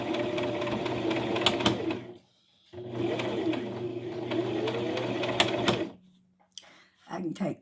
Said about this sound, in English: Back stitch now and then, just for good measure.